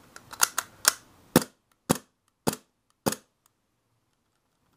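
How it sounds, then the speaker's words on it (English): WE M&P gas blowback pistol dry fired, giving a quick cluster of sharp clicks followed by four evenly spaced, crisp snaps, close and alone in a quiet room. "So I'm just going to dry fire here and I'll kind of see if I can replicate that problem."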